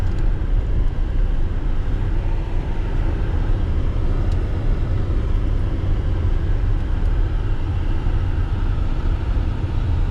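A Range Rover with a heating failure circles a roundabout, its steady engine and road rumble filling the cabin as a continuous low drone with no distinct changes.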